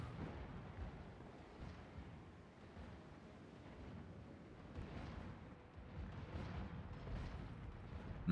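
Mortars fire in a Total War: Warhammer 3 battle, a continuous low rumble of overlapping booms and blasts that swells and ebbs throughout, with no single shot standing clearly apart.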